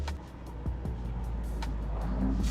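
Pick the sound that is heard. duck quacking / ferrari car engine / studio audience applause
ferrari car engine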